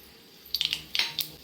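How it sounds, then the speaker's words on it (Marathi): Mustard seeds hit hot oil for tempering, giving a short cluster of sharp, close crackling pops over a quiet background hiss. "मी आता ह्याच्यात मोहरी घालते."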